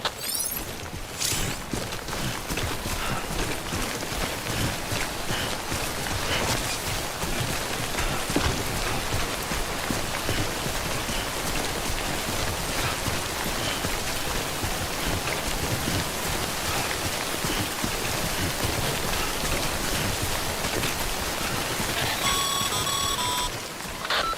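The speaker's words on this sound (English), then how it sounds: "Don't stay out in the rain any longer than you have to." Timefall rain in the video game Death Stranding pours as a dense, steady hiss of falling water that continues unbroken, with faint electronic tones near the end.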